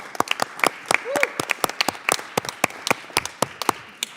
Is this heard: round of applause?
yes